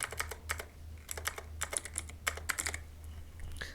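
Typing on a computer keyboard, entering a search for device manager: quick irregular bursts of close key clicks with short pauses between groups, over a low steady hum.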